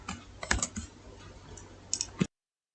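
Keystrokes on a computer keyboard, a few scattered clicks with a small burst near the start and another near the end, close and fairly quiet with no talking.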